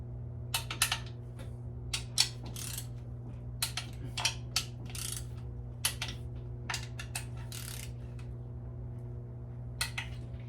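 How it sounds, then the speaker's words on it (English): Oil pan bolts on an LS engine being tightened with a torque wrench, a series of short sharp metallic clicks and ratcheting bursts in irregular clusters over a steady low hum, fairly quiet and without talk. "So now we're gonna go and tighten everything."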